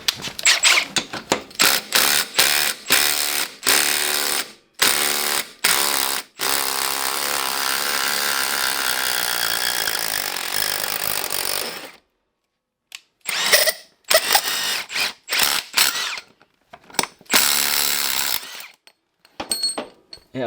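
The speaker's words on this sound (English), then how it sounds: "Should I put an impact wrench on it?" Impact wrench on a stuck snowblower bolt: rapid hammering rattles in short bursts, then one long sustained run of several seconds, a pause, and more brief bursts, loud and close.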